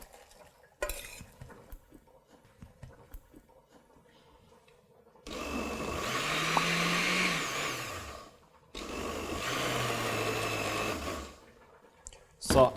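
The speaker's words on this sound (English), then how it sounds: "So now we are going to blend it to pass through blender." A kitchen blender purées cooked pumpkin soup in two loud sustained bursts of whirring motor and churning liquid, separated by a short pause, after quieter clinking at the start.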